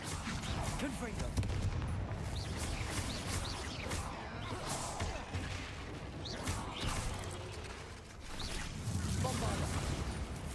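Confringo fire spells cast in combat in the video game Hogwarts Legacy, a dense run of crackling blasts and impacts over a steady rumbling game background, with voiced spell calls mixed in.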